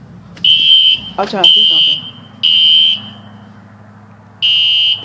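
A home fire alarm sounds during a test, giving loud, shrill electronic beeps in bursts of about a second with short gaps, while people talk close by.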